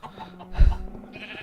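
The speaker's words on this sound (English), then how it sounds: "Oh, I hear sheep." A sheep bleats in Minecraft, one short wavering bleat in the middle of a brief quiet clip, with faint game background around it.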